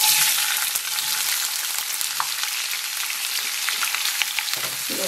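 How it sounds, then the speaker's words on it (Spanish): Vegetables tipped into hot oil in a frying pan for an egg-and-ham breakfast crackle with a constant, close sizzle and frequent small pops, no voices present. "Ya le voy a poner los vegetales aquí al aceite"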